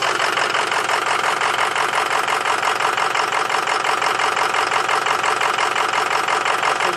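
A 2006 Ford F450 truck engine idling with a misfire, a steady, loud, dense mechanical drone that runs unbroken throughout with no speech over it.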